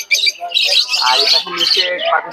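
Busy chirping and squawking from several caged diamond doves and cockatiels close together at a bird market, calls overlapping continuously.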